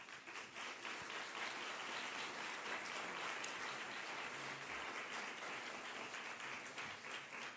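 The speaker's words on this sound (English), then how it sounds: "Give him a big round of applause." A conference audience applauds the introduction of a professor as a speaker, a broad, steady wash of many hands clapping, heard from some distance and sustained throughout at a fairly low level.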